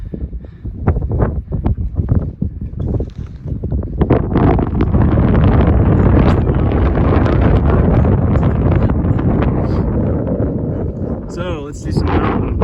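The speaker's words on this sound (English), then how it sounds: "It's really windy now" Strong wind on Mount Niwot, Colorado, buffets the microphone in heavy, rumbling gusts, growing louder and more continuous, with a voice briefly audible under the roar.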